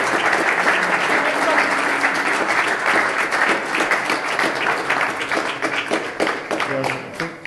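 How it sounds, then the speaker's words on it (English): Sustained audience applause at a lecture on wartime special forces, a dense, loud wash of many hands clapping steadily for over seven seconds, with some voices mixed in and the clapping thinning slightly near the end. "I think he gets a special round of applause for wearing that headdress all night in the heat."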